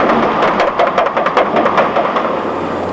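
A loud, steady roar with rapid rhythmic thumping pulses of helicopter rotor blades, continuous and close, from inside a flying helicopter, with no voices.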